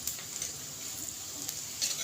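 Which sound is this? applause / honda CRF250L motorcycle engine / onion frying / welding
onion frying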